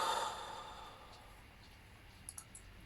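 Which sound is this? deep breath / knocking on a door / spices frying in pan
deep breath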